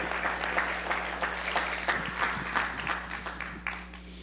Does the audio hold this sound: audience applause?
yes